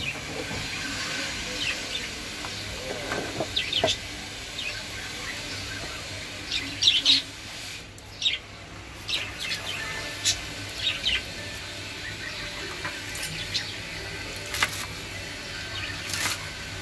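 Pet birds chirp in quick, scattered high calls over steady background hiss while fresh leafy greens are washed and cut to feed them; no one speaks.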